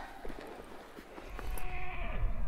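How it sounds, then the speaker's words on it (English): Horses on a Utah cattle drive, with clip-clop hooves and a whinny outdoors, faint at first and growing louder, with livestock sounds blending in. "all four, are on horseback for this journey."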